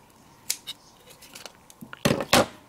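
A small piece of card stock being cut with scissors, a few sharp snips and papery rustles, close and quiet, ending in two louder crisp cuts.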